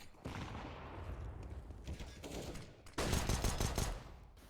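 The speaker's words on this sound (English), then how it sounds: "Meep with a headshot there with a P250" Rapid gunfire bursts from a P250 pistol and other weapons during a competitive esports match of a tactical shooter, dense and continuous, jumping louder near the end with no talk over it.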